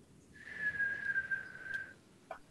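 A person whistles a single steady, sustained note lasting over a second, clear and alone over faint background noise, during a SkyBlock Minecraft server session.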